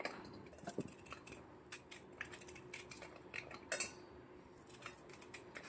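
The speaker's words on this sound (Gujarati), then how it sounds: "આવી રીતના હું ચક્કુની મદદથી કટ કરી લઉં છું" A knife slices tender fresh green corn kernels off the cob, producing a quiet series of irregular crisp cutting scrapes and small clicks, close up and without talking.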